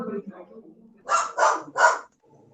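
A dog barks three times up close and loud in a home during a physics tutoring session, following softer sounds that may be talking.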